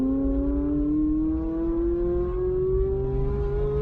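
A race car accelerates on the track at High Plains Raceway, its engine note rising steadily in pitch as a loud, close, sustained drone over road rumble.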